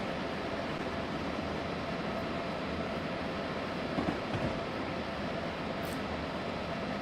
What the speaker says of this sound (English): We might have a problem stopping this train coming into the station smoothly